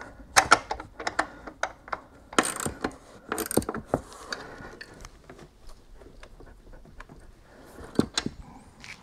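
A bolt is tightened back into a Mercedes seat belt mount with a ratchet, giving close, irregular metallic clicks and clatter, densest in the first few seconds and then easing off.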